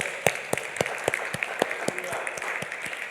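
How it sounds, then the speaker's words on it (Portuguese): Church congregation clapping together in steady rhythmic unison, sharp claps repeating about every quarter second, with a faint voice underneath. "vamos bater palmas para o Senhor Jesus Cristo"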